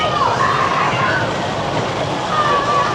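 The Predator roller coaster at Six Flags Darien Lake, a 1990 Dinn Corporation ride, rumbles along its track with a steady loud roar and faint wheel squeals, heard nearby from the queue area.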